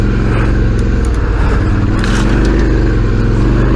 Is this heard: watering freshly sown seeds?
no